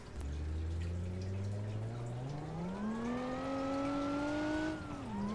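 A car's engine in BeamNG.drive drones steadily, then its pitch climbs as nitrous boost kicks in during a downhill run, rising gradually before a brief dip near the end.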